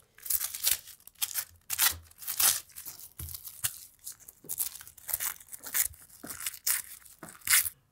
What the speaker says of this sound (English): So I'm gonna go ahead and tear off my tissue paper.